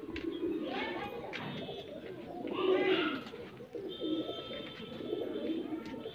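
Kaldume kalpare high flyer pigeons coo in a loft, with repeated soft, throaty, rolling calls in slow waves, close by and fairly quiet.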